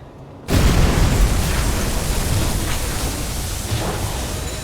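A torpedo strikes a ship in the submarine game UBOAT with a sudden loud explosive boom, followed by a sustained heavy rumbling roar that slowly fades.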